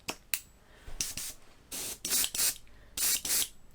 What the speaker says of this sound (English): Make sure it sprays, which it does